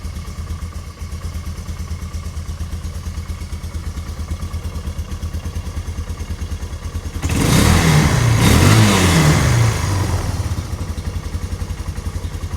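Cheap four-wheeler ATV engine idling with a steady close putter, then revving up for a few seconds with a louder rising roar before dropping back to idle.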